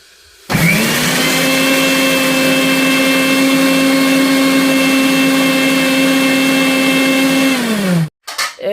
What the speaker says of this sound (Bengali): এগুলোকে এখন মিক্সারে গুঁড়ো করব।